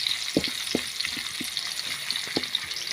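Young jackfruit frying with onion, ginger, turmeric, garlic and chili, giving a steady close hiss of sizzling oil broken by several sharp scraping stirs at irregular intervals, with no talking.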